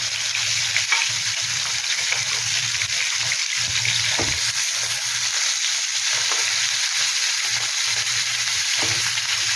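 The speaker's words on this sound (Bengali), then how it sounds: "আমি এগুলো ভাজতে দিয়ে দেবো মাছগুলোকে" Marinated katla fish sizzles steadily in hot oil, a dense continuous crackle with occasional soft pops, close and fairly loud.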